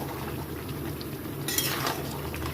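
Mutton simmers uncovered in a pot as the water cooks off, giving a faint, continuous bubbling sizzle with light stirring scrapes.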